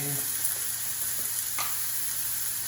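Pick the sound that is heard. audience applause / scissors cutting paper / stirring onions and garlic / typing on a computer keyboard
stirring onions and garlic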